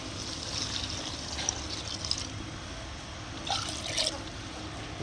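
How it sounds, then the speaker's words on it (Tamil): Water pours steadily into a pot of chicken curry, a close, continuous splashing fill with a few brighter surges near the end. "இப்போ தண்ணி ஊற்றிக்கலாம் தண்ணி வந்து உங்களுக்கு தேவையான அளவு"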